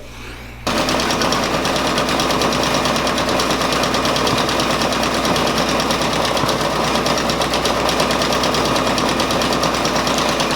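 A Brother embroidery machine stitches out a patch, its steady rapid needle clatter loud and continuous after a brief quieter start, with a constant motor drone underneath.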